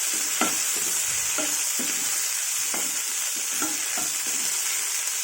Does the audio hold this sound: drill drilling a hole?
no